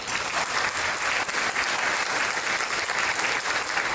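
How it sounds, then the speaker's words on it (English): Dense, steady applause from a dinner audience at a chamber of commerce awards event, even and continuous throughout without a break. "Would you please give a round of applause to Beam Broadband?"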